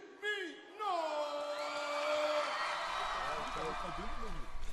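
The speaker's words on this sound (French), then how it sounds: "Je demande une salle d'applaudissements pour Criminals." Crowd at a Criminalz crew dance battle whoops and yells loudly at the start, then settles into sustained cheering and roaring crowd noise that fills the rest of the clip.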